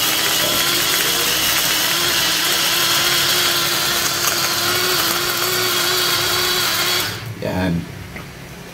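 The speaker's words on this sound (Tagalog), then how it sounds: "Pang kunti lang kaili ang ating blender natin na mini blender." A small mini blender whirs steadily and loudly for about seven seconds in a kitchen while tilapia is being prepared, then cuts off abruptly, leaving a few clunks afterward.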